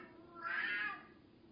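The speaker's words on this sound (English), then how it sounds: "that's my cat." A single soft, drawn-out cat meow rises and fades over about a second, alone and fairly quiet.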